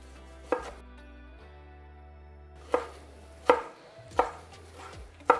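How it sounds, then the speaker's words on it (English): Knife chops cutting through ripe plum tomatoes on a board, a handful of sharp, separate strikes spaced irregularly, with a low steady hum underneath and no talking. "I'm going to cut these beautiful ripe plum tomatoes."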